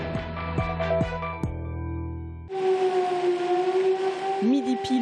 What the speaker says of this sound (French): Midi pile, une sirène lugubre qui retentit une fois de plus